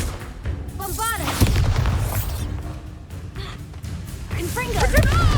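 A Bombarda spell explosion in Hogwarts Legacy, with booming magical blasts and bursts amid combat effects, while a voice shouts spell incantations over the action.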